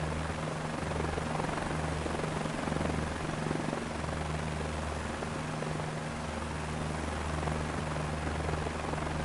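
A helicopter flies in Microsoft Flight Simulator 2024. The rotor and engine give a steady, low, throbbing drone that runs unbroken and fairly quiet throughout, with no talking.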